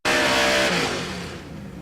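Two 1955 hot rods, one a stick-shift 55 with a nitrous LS engine, launch side by side at a drag strip in Ennis, Texas, a loud close roar of revving engines that fades a little as they pull away.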